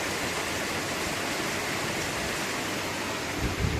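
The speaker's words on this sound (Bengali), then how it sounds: "বাইরে জল হচ্ছে, দেখো কি জোরে জল হচ্ছে" Heavy rain pouring down outside, a dense, steady broadband wash of noise that holds evenly throughout with no voices.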